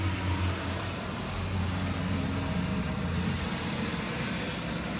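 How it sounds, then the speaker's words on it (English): A truck rolling past outdoors, a steady low engine rumble and road hiss holding at a constant moderate level for the whole stretch, with no voices. "Truck's going by."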